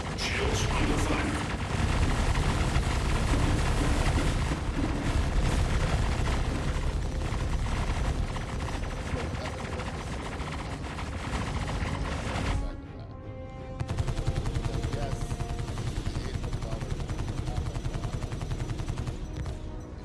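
Rapid gunfire striking ship shields in the space game Star Citizen, a dense, loud, continuous barrage of impacts that briefly drops out near the middle before resuming just as heavily.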